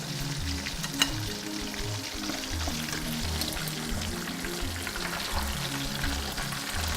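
Turmeric-coated fish frying in a pan, a steady close sizzle and crackle of hot oil running throughout with a brief sharper pop near the start.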